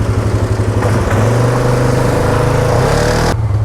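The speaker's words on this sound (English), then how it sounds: "Whoo, 4-wheeler time." A four-wheeler ATV engine runs loud and close with a steady mechanical drone and clattery rumble, holding a constant pace before cutting off abruptly near the end.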